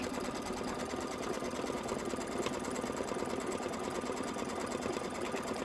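A quilting sewing machine stitches a tack-down with a fast, even mechanical chatter. It runs continuously and fairly quietly, with no voice over it.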